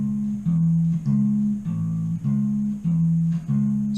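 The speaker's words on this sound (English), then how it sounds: "So it's root, major third, fifth, and then we're going to go back to the major third." Bass guitar plays a repeating four-beat figure on A (root, major third, fifth, then major third again), each note low and sustained with short gaps between them, clean and close with no voices.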